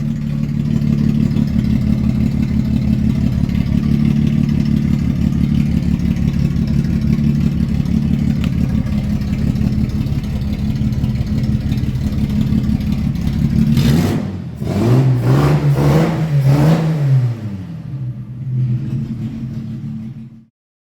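Morris 2200 engine running with no exhaust fitted, a loud, raw, throbbing low rumble at idle, then several sharp revs rising and falling before the engine cuts off abruptly.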